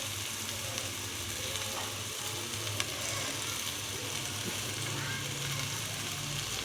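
Noodles fry with vegetables in a hot pan, a steady dense sizzle running throughout at moderate, close level, with a few faint clinks of stirring.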